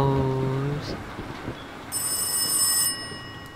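A telephone rings in the Rise of Insanity video game, a bright electronic trill lasting about a second amid low ambient tones and other faint game sounds.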